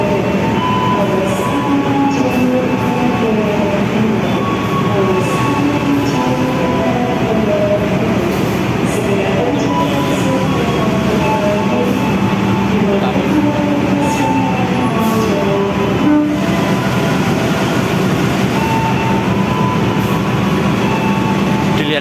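The Jaka Tingkir economy train, heard from inside a carriage as it leaves Lempuyangan station in Yogyakarta at night, gives a loud continuous rumble with rolling wheel noise and faint rail clatter throughout, without talking.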